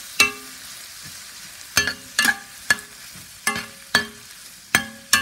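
Shrimp stir-fried in a home pan, with a metal spatula striking and scraping the pan about eight times in an uneven rhythm, each hit ringing briefly over a soft, low sizzle; no one talks.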